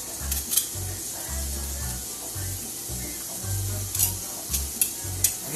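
Garlic fries in a pan with a steady hiss and crackle, broken by intermittent stirring scrapes and light clinks of utensils against the cookware.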